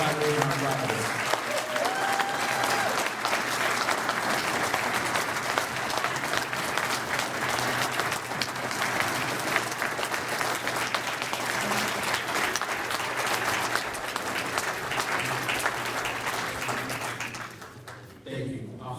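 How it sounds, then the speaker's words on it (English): Loud, continuous crowd applause at a city fire department swearing-in ceremony, honoring the new chief, firefighters and drivers, with voices mixed in, fading out near the end. "a round of applause for our new chief of National Defense, firefighter, and drivers"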